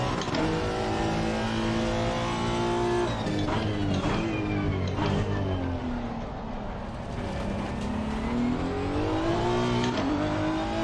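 A 2018 Honda NSX's engine at Spa in Assetto Corsa Competizione revs repeatedly up toward the limiter, rising pitch sweeps broken by quick gear changes, loud and continuous from the cockpit with no voices.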